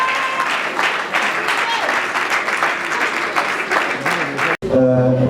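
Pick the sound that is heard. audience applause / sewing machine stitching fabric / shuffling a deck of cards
audience applause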